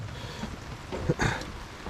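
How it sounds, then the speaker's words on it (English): Steady rain falls outdoors as a soft, even hiss, with a couple of brief, louder splashes or thumps partway through. "It's actually raining for the first time today in quite a long time"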